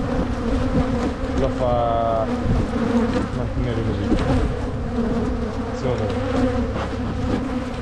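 Honeybees buzz at a hive in a steady, dense drone that runs throughout, with a person speaking briefly over the swarm.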